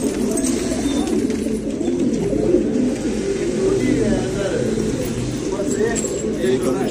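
Roller pigeons cooing in a loft, continuous low murmuring calls close by while someone talks over them.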